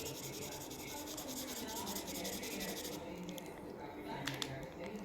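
A colour pencil shades a drawing with a continuous close, dry scratchy rubbing on paper, a few sharper strokes near the end, and faint talk in the background.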